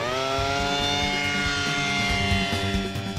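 A small military micro air vehicle drone lifting off, with a loud close whine of rising harmonic tones over a rough buzzing layer, steady and without speech.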